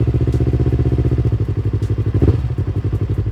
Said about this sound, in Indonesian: Pas nyalain kedengeran banget suara knalpot full system yang udah diganti pakai knalpot racing